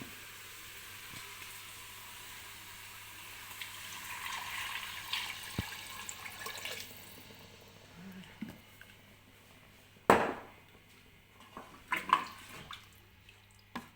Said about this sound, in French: je vais rajouter 1 litre d'eau